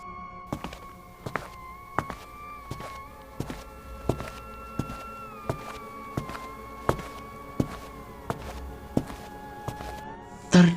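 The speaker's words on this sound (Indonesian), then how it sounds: "terdengar suara langkah kaki seseorang dari samping rumahnya" Footsteps of someone walking beside a house: a steady run of evenly spaced, fairly soft thuds about twice a second, set against a sustained droning tone.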